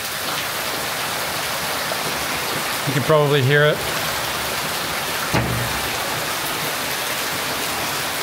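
Heavy tropical rain pours down steadily in Ubud, Bali, during the rainy season: a dense, continuous hiss of water close by that runs throughout, with a brief voice breaking in partway.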